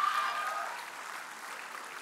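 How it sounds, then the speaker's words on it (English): At a university farewell event, an audience claps for a student who climbed Friendship Peak, a short burst of many hands that starts loud and quickly softens to a lighter, sparser patter. "a bigger round of applause for Dheeraj as well"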